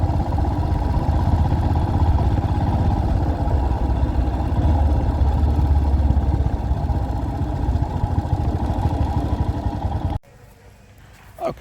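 Royal Enfield Himalayan motorcycle running steadily with a low engine drone and road rumble for about ten seconds, then cutting out abruptly to quiet ambience with a faint brief knock near the end.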